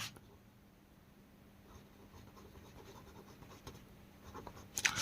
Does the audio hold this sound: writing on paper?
yes